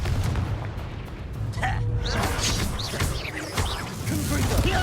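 Confringo spell blasts in the video game Hogwarts Legacy: deep booms and crackling impacts over a loud, dense battle mix, with several bursts across the stretch and constant combat noise beneath them.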